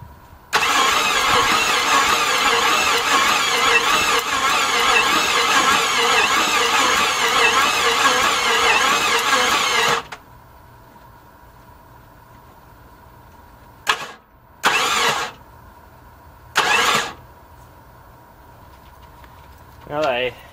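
An old car engine from a restoration project cranks and churns loudly for about ten seconds, then goes quiet, followed by several short separate bursts of cranking near the end.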